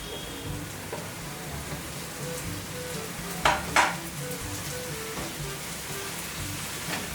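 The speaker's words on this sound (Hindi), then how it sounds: "The fried bombils are almost done." Bombil fish frying in a pan with tamarind, giving a steady close sizzle and crackle throughout, with a couple of sharper spattering pops in the middle and no talking.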